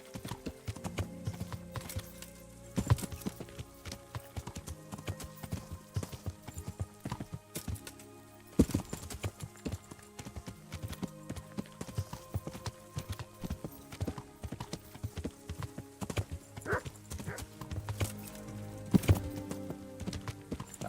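Horse hooves clip-clop steadily and up close in the video game Kingdom Come: Deliverance, a continuous trotting rhythm with a few louder thuds, no voices.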